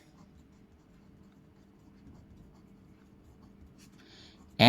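A pen scratches out maths working on paper, faint and close, ending in a short louder burst of contact noise.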